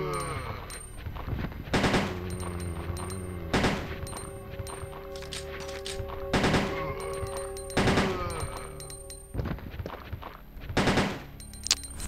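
Gunfire in the Resident Evil 2 video game, with several separate bursts of loud, sharp shots at irregular intervals, each set against a quieter game soundscape with steady tones and effects, with no talking.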